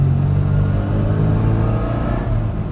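Restored 1991 Rover Mini City-E with a 1000 A-series engine accelerating in a low gear, a close, steady raspy exhaust drone that climbs slightly before easing off.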